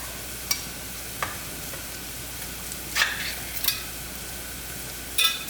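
Tomatoes frying in a pan for a fish curry, a soft continuous sizzle broken by a few sharp scrapes and clinks as a utensil stirs, close and fairly quiet, no voices.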